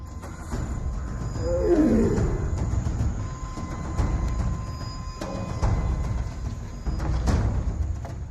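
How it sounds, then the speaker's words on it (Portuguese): A female tiger in the wild in India roars at close range, a loud rumbling burst near the start followed by further growling calls over steady outdoor background noise. "Finalmente, o tigre está cruzando o nosso caminho."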